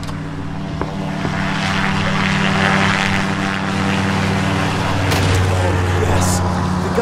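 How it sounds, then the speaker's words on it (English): A plane engine runs in the video game Greyhill Incident, a steady loud propeller drone with a sustained low hum that holds throughout, a few faint clicks over it. "Got the plane working."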